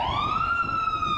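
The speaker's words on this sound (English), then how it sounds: "we can hear the sirens now too, so there's, I guess the police are coming up" A police siren wails steadily at a Pride parade in Owen Sound, its rising tone loud and close over a busy crowd murmur beneath.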